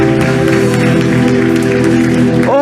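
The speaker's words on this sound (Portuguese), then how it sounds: "Vamos aplaudir o Senhor, aleluia." A church congregation claps and cheers together, a loud, dense, continuous wash of applause with sustained music tones underneath.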